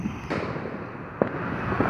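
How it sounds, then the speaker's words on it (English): A loud cannon-like firework booms outdoors, one sharp blast followed by smaller cracks and a rumbling echo. "that's that kind of cannon sounding firework"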